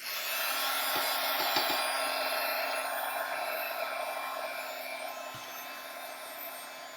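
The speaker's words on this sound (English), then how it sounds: "I'm going to just take the heat gun and blast those." A heat gun blasts a mixed media craft tag with a continuous, close rush of hot air that eases slightly over time, joined by a few brief knocks and taps, and no voices.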